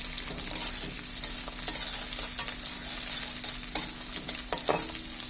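Onions frying in a pan with cinnamon and cardamom for vegetable khichuri, a steady close sizzle broken by repeated scraping strokes of a spoon stirring, with no voices.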